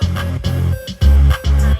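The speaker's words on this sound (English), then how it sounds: "So I'm just gonna bring in this main clap here." A punchy electronic beat with a deep bass kick and sharp clap hits repeating in a steady bouncy pattern, loud and close.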